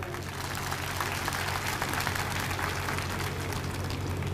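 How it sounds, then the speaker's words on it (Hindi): Loud, dense applause from a large crowd at a political party review meeting, a continuous roar of many hands clapping at once that holds steady throughout. "आप सभी के लिए एक बार जोरदार तालियां हो जाएं।"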